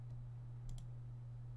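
Two quick, close computer mouse clicks during a modded Minecraft session, crisp and brief against a steady low electrical hum, with no talking.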